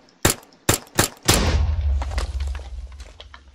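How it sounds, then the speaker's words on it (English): Explosive ammunition fires in the Crafting Dead Minecraft mod: four sharp, loud gunshots in quick succession, the last bursting into a booming blast that rumbles and fades out. "This is explosive ammo, and like every 5 shots, it will make explosion."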